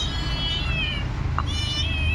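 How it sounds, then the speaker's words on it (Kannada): A small kitten that turned up in an apartment meows faintly, two or three thin cries over a steady low background hum. "ಈ ಬೆಕ್ಕಿನ ಮರಿ ನಮ್ಮ ಅಪಾರ್ಟ್ಮೆಂಟಲ್ಲಿ ಬಂದಿದೆ. ತುಂಬಾನೇ ಕೂಗ್ತಾ ಇತ್ತು."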